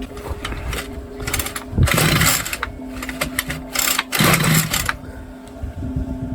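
Gas string trimmer with a newly fitted switch and the choke on, pulled several times to start: two loud bursts of revving engine from close by over a steady buzzing drone.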